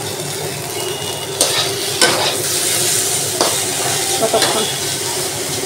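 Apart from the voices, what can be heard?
food frying and sizzling in pan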